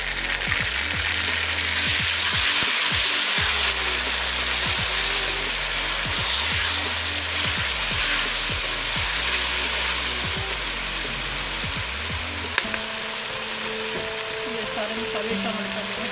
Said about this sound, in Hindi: ये टमाटर का पेस्ट शामिल कर रही हूँ।